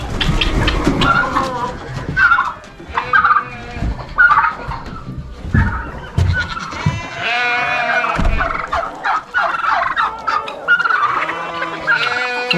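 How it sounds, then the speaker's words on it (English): Turkeys gobble repeatedly and loudly nearby on a homestead in the morning, their rattling calls overlapping in rapid bursts throughout, with other fowl noises mixed in. "I've got a couple of turkeys that did not make it into the turkey coop last night."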